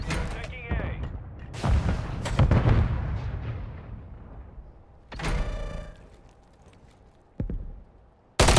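Grenades and gunfire go off in a ranked online shooter match, with several booming blasts and bursts that decay into rumble, separated by quieter gaps, loud and close.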